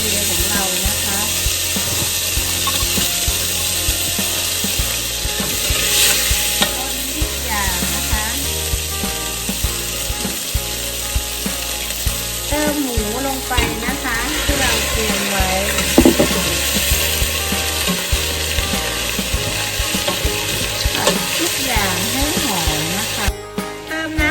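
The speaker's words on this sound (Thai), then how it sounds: "ใส่น้ำมันไปสองช้อนโต๊ะนะคะ เพื่อที่จะผัดน้ำพริกแกง" Curry paste for Hung-Le curry stir-frying in two tablespoons of oil, a dense, loud sizzle running throughout with repeated scraping and stirring strokes and occasional clatter of the utensil.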